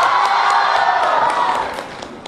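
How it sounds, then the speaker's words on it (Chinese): A live crowd at a song press launch breaks into cheering and applause, loud and dense at first, then gradually thinning and fading. "掌声欢迎！"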